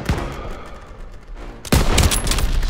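Gunfire in the Call of Duty: World War II campaign battle at a stronghold courtyard, a steady rattle of shots that swells into a loud, dense fusillade partway through.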